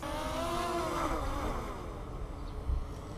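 An Eachine EX5 drone, a DJI Mavic Mini clone, hovering in place with a steady whirring propeller hum that wavers slightly in pitch, near and continuous.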